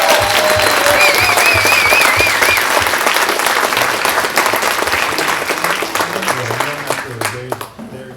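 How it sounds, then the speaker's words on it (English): Live audience applauding a performer, a full, loud burst of clapping that holds steady and then gradually tapers off near the end, with some crowd voices and a tonal sound mixed in. "a round of applause, or just express your appreciation"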